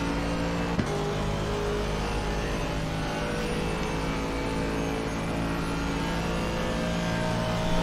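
A BMW race car in a racing video game at Paul Ricard closes in to overtake, its engine a steady loud drone holding a sustained pitch throughout, with a brief click near the start.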